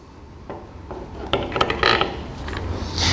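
Ratchet tightening the nut on a Chevrolet Onix shock absorber assembly, a few short clicking and scraping bursts of metal, quiet and close, with no talk.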